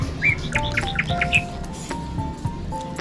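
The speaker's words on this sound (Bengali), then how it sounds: "কত পাখি ডাকছে দেখেছেন?" Several birds chirp in quick bright bursts near the start, then a few thinner calls and tones carry on over a busy background hum, at a food stall serving aloo paratha, fafda and jalebi in Gujarat.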